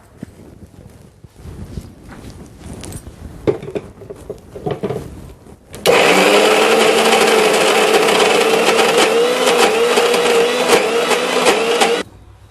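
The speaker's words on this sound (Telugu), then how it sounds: "మళ్ళీ ఇది గ్రైండ్ చేసుకోవాలి." A mixer grinder runs on peanuts and dried red chillies for a peanut chutney, starting abruptly after some handling clatter and then whirring loud and steady for about six seconds before cutting off.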